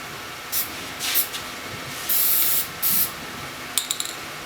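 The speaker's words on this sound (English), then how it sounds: "I'm going to just coat that whole thing with clear lacquer." Rust-Oleum clear lacquer sprayed from an aerosol can onto a Zenith table radio part, heard as several bursts of hiss, short puffs and longer sustained sprays, close and loud, followed by a few quick rattling clicks.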